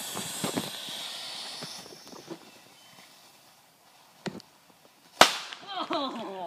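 M5000 firecracker set off with a K cup: one sharp, loud crack after some background noise, quickly followed by a voice reacting.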